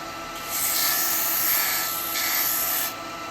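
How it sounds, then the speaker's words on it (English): A wet eucalyptus bowl being wet-sanded with oil on a lathe gives a steady, close abrasive rubbing hiss that swells and eases in a few long strokes, with the lathe's hum underneath. "now what I'm going to do, I'm going to wet sand it"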